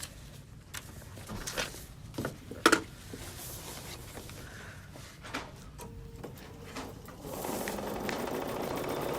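A sewing machine stitches with a short stitch length through a pieced quilting project, a soft steady whirring and patter at moderate distance, interrupted by a few sharp knocks and handling sounds.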